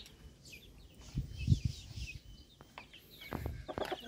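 Chickens, including young chicks let out of their pen, make scattered clucks and soft peeps at close range, with several louder low clucks and chirps coming in irregular bursts.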